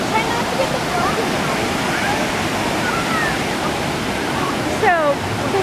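Ocean waves break on a beach in a continuous loud, broadband wash of surf, with voices briefly audible over the roar near the end.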